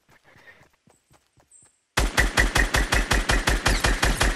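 Rapid automatic gunfire from a Fortnite battle royale match bursts in loud and close, a fast steady rhythm of about a dozen shots following a quieter stretch of faint game sounds.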